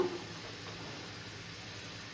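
A steady, quiet sizzle of a fish head frying in hot oil, hissing evenly without other sounds.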